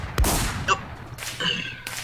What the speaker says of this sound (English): Someone wearing a tutu is shooting me?